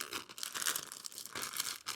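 Several quick, crinkly tearing rips of a plastic bag of soil, close by, coming in short bursts with brief pauses between.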